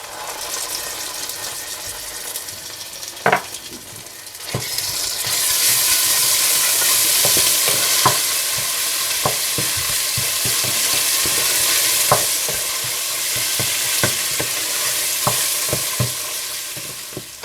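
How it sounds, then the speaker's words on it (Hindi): Steady sizzling of ginger and garlic frying with onions in a pan, with intermittent scraping and clinking as it is stirred, close and continuous throughout. "और बाकी प्याज में आप अदरक लहसुन डालकर भून लें।"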